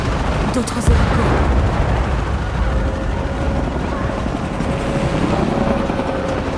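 Helicopter rotors in Shadow of the Tomb Raider keep up a dense, loud, continuous roar with rumbling booms beneath, and a faint voice is partly buried in the din.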